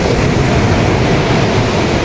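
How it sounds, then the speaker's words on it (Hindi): Rough sea waves break on the shore at Somnath on the Gujarat coast, a continuous loud roaring wash with heavy wind rumble and no talking. "विकट लहरें हैं इधर समुद्र की"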